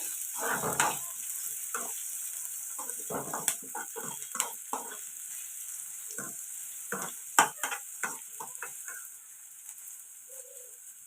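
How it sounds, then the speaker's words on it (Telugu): Sliced onions and curry leaves fry in oil in a pan for a dry fish curry: a steady hissing sizzle runs throughout, broken by frequent irregular spoon scrapes and stirring knocks, close up and without talk. "ఇలా ఉల్లిపాయలు ఫ్రై అవుతాయి కదండి"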